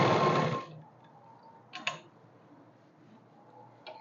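A sewing machine briefly runs a short burst of stitches along a folded trouser seam, then goes quiet apart from a few faint clicks and taps.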